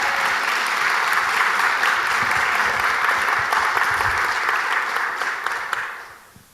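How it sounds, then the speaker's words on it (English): A congregation celebrating a Guatemala partnership gives team members a loud, dense wash of applause that holds steady and then fades quickly at the end. "Let's give them a round of applause too."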